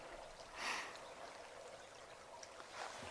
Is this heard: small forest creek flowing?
yes